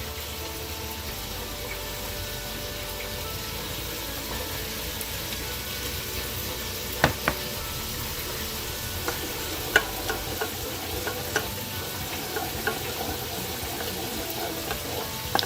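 Barbecue honey sauce simmers and sizzles steadily in a pan while being stirred, with soft scraping and a few sharp clicks of the utensil against the pan, no talking.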